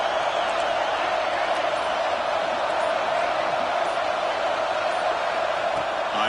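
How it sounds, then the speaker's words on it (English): A home crowd roars at a high school football game, a steady, loud wash of cheering and whooping that holds without a break. "It's early, but this crowd is fired up. Listen to this noise here."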